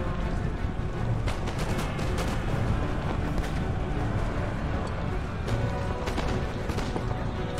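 Musket and cannon fire roll through a large battle in Empire: Total War, a dense, continuous wash of distant volleys and booms with sharper shots cracking out now and then.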